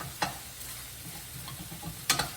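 Garlic sizzles in a pan for chicken marsala, a low steady frying hiss broken by a couple of brief clinks or scrapes near the start and end, close and without speech.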